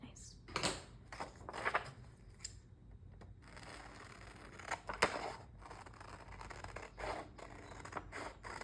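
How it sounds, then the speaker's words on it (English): Mini scissors snip through paper for a collage, giving a series of sharp, close cuts and rustles spread across several seconds, with quiet handling noise between them. "That is a good use for my mini scissors"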